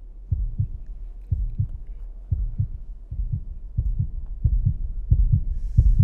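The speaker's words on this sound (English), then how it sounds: "The heartbeat music is going strong on the edit right now." Heartbeat music effect laid over an edit of an alternate-shot golf match with professional athletes: steady, deep double thumps repeat about once a second, loud and close, with no talk over them.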